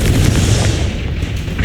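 A Confringo spell blast in the Hogwarts Legacy video game, a loud booming explosive burst with a dense low rumble that holds steady for under two seconds.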